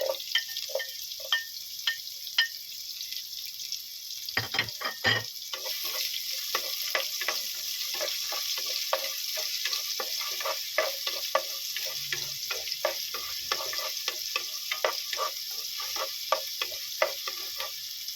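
Onion sizzles softly while being sautéed in a pan, a continuous low frying hiss with frequent light clicks and scrapes of stirring, fairly quiet and without talk.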